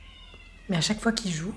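A young boy imitates a cat, giving a couple of drawn-out, wavering meows at close range just after someone briefly speaks.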